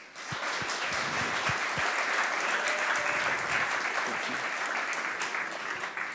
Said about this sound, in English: please give a round of applause for the next speaker of today, Albert Wong